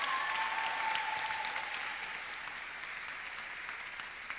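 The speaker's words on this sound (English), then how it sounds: "Please, can you give her a round of applause?" Applause from a gathering at a hospital anniversary event, soft and somewhat distant, a steady patter of clapping that gradually thins toward the end with no voices on top.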